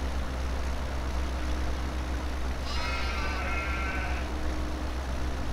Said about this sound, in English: Sheep in here, they are not far away from us.